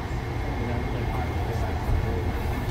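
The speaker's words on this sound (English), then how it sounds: "those are the Long Island Railroad stations over there" A Long Island Rail Road train at a station in Jamaica, New York rumbles steadily with a low, continuous roar and faint rattling.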